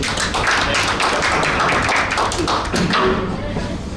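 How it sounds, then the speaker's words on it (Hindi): Loud applause at an anniversary celebration gathering in Delhi, a crowd clapping steadily and vigorously throughout, dense and close, with some voices mixed in. "जोरदार ताली इनके लिए।"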